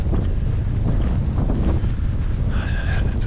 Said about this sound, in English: It's a windy zone here.